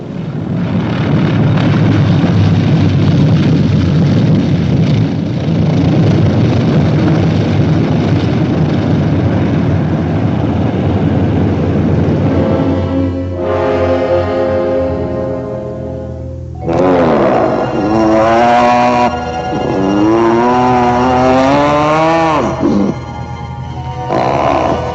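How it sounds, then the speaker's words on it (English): A troop carrier aircraft comes in to land as a film sound effect: a loud, steady engine drone fills most of the clip, then eases as wavering tonal sounds rise over it. "Troop carrier US 11034, you may land on runway"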